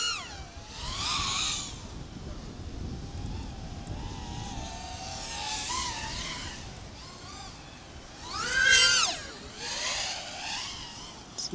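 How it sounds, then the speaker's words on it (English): A Helifar Mini Fuuton 3-inch cruiser drone runs its motors at full throttle outdoors in wind, a whining buzz that rises and falls in pitch, with loud surges as it passes closer and fainter stretches between them. "So it's about full throttle right there."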